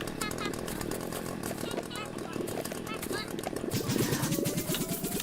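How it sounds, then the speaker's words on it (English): A chainsaw tool in the Berry Bury Berry video game runs with a buzzing, revving engine drone across the clip, rising and growing louder near the end, close and prominent with no talk over it. "Alright, time to use our chainsaw."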